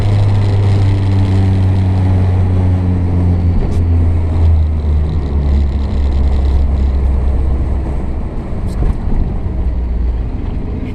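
A vintage Renault car taking a roundabout, heard from inside as a loud, steady engine drone whose pitch shifts midway, with rushing wind noise throughout.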